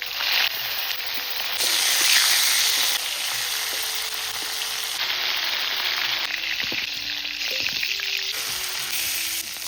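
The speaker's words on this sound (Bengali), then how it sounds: "গরম তেলে মাছগুলো ছেড়ে দিচ্ছি।" Prawns frying in hot mustard oil in a kadai for a Bengali chingri malaikari, a dense, continuous close-up sizzle and spatter that stays loud and even throughout.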